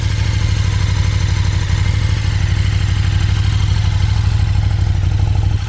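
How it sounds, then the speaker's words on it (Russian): KTM 1290 Super Duke motorcycle engine running steadily at idle, loud and close, with a rapid pulsing rumble and clattering, knocking mechanical noise throughout, no voices. "Что касательно работы, ну, работает как КТМ. Гремит, стучит, но это является нормальной для этого мотоцикла."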